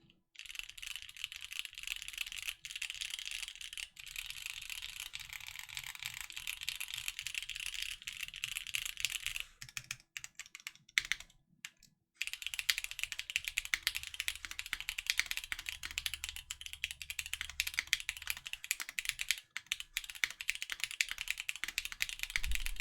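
Steady mechanical keyboard typing with stock Gateron orange switches, GMK Carbon keycaps and a polypropylene plate, dense close clacking that pauses briefly mid-way before resuming at a brisk rhythm.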